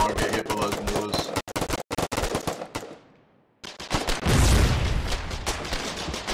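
Mortar explosions in an online multiplayer game: dense rapid gunfire bursts, a brief lull, then a loud deep boom with sustained rumble, with a voice faintly present.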